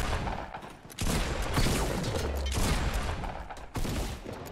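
Dense, loud gunfire in Fortnite, with rapid bursts of shots and several sharp cracks standing out over a continuous roar of fire.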